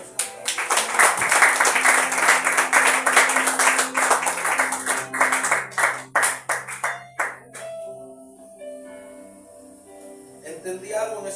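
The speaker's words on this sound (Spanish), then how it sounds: "Denle un aplauso a Dios." A church congregation claps loudly in a fast, rhythmic wave over sustained keyboard chords. The clapping thins and fades out after several seconds, leaving the soft organ-like tones ringing alone.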